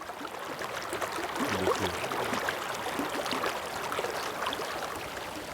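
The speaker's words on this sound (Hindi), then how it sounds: "पानी की कलकलाहट सुनिए" A mountain stream in the Hudan Valley rushes and babbles over rocks, a continuous broadband wash of water heard close and steady, with no voices.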